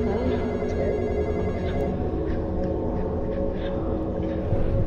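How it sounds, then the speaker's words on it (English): A telephone rings inside a Roblox horror game, its bell tone running continuously at close range over a loud, dense low rumble of game ambience, with no talk. "since the phone is ringing"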